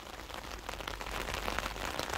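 Light rain sprinkling outdoors at West Thumb Geyser Basin in Yellowstone National Park, a soft continuous patter and hiss with no voices.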